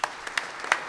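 A few scattered, faint hand claps from the audience at a panel forum on ISIS and Islam, sparse and spread across a short moment rather than building into full applause.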